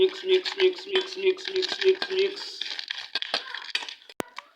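Boric acid and sugar are mixed in a bowl for cockroach bait: light clinks and scrapes of a spoon against the bowl in a loose rhythm, close by, heard under steady talking.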